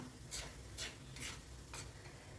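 Wheat rava payasam with sago and raisins is ladled from the cooking pot into a serving vessel: four short, evenly spaced scraping and pouring bursts over a low kitchen hum, with no talking.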